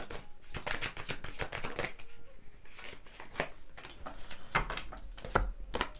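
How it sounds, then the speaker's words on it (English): Tarot cards being shuffled in quick, crisp riffling bursts, with soft flutters and taps repeating through the stretch, fairly close, with no talking. "Card shuffling so weird today."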